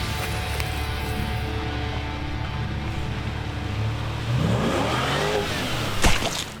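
A Patrol 4WD on 37-inch tyres idles with a low rumble on a forest track at Kinglake West, Victoria, then its engine climbs in revs and roars louder near the end.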